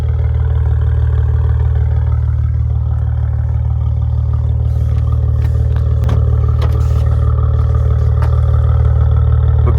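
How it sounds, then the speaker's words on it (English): A 2014 Maserati Ghibli S Q4 in sport mode idles with a deep, steady exhaust rumble up close, accompanied by a few light clicks and knocks. "Now I have the vehicle in sport mode so you can hear that exhaust."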